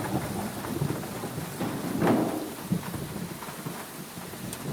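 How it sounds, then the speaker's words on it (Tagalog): Rain falls and thunder rumbles in the Shawarma Kiosk video game, a steady loud downpour with a heavy roll near the middle, and no voices. "Umuulan. Umaambon, buti ba dito umaambon?"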